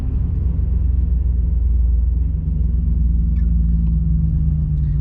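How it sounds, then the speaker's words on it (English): Semi trucks and a logging truck rumble past on a road, a loud, steady low-pitched drone with a deep engine hum building and holding throughout. "Surrounded by semi trucks."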